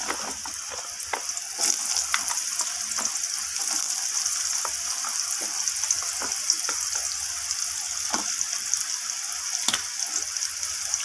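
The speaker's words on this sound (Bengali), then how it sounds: "আলুগুলোকে এবার ফোড়নের সাথে আমি ভেজে নেব একটু লালচে করে" Potatoes frying in hot oil with panch phoron five-spice, being browned: a steady, close, loud sizzle with scattered sharp crackles and pops throughout.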